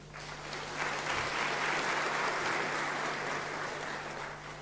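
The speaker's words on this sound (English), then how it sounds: "we would like to give you a round of applause" Sustained applause for PhD graduates at a UNISA graduation ceremony, a broad wash of many hands clapping that swells and holds steady, fairly loud and continuous with no talking.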